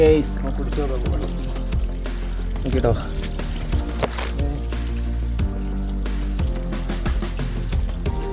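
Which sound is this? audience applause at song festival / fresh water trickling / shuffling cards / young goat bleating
fresh water trickling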